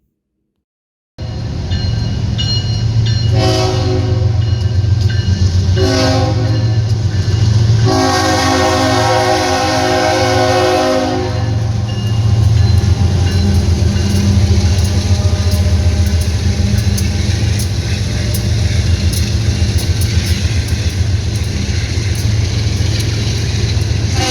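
A train horn sounds in several blasts as a heavy freight train hauled by diesel locomotives, including KCSM 4539, rumbles past, the loud continuous roar of wheels and engines filling the scene.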